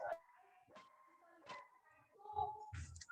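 A dog whimpers and yips in short high whines indoors during an online class session, with faint voices talking around it.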